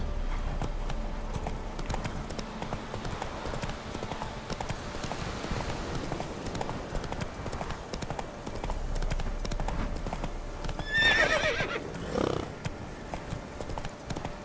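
Roach, the horse in The Witcher 3: Wild Hunt, gallops with steady rhythmic hoofbeats under continuous game music and ambience, with a brief whinny near the end.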